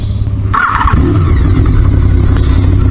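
A Honda VFR750 motorcycle engine runs close by, a steady low idle that lifts into a brief rev near the start before settling back into a continuous loud drone.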